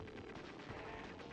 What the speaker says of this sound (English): instead my character was firing and fired a bomb while the dialogue was on the screen